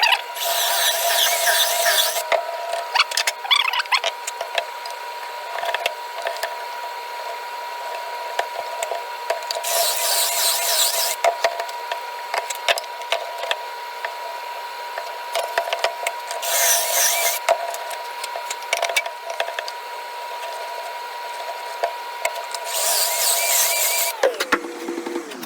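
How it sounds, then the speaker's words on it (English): A power drill boring into a wooden board during a custom gate build, giving a steady motor whine with sharp bursts of grinding cutting noise as the bit bites into the wood, repeated several times, loud and close, without talk. "We don't want this to chatter as the drill cuts into the board"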